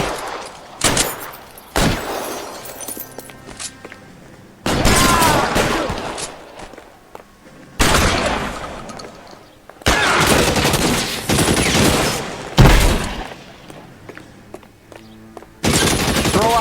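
Bursts of automatic gunfire in an L.A. Noire shootout, loud volleys broken by short pauses, with faint shouted voices between them.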